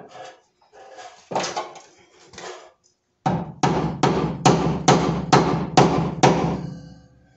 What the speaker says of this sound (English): Just gave it a couple whacks and it's already getting underneath the bracket